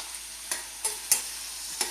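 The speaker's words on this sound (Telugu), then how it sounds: "సిమ్లోనే వేపుకుంటూ ఉండాలండి, మధ్య మధ్యలో కలుపుకుంటూ ఉండాలండి" Sliced onions and green chillies fry in a pan, a soft steady sizzle under five sharp scraping strokes of a spoon as the mixture is stirred, each stroke short and close.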